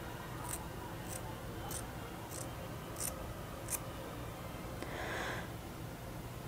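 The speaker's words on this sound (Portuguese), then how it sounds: "Vou cortar mais um pouquinho. Vou cortar mais um dedinho," Scissors snip hair bangs during a home fringe trim: about six sharp, quiet cuts spaced at a steady rhythm, then a brief soft rustle, over a faint background hiss.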